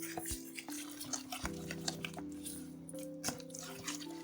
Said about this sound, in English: Now, mix all the ingredients well.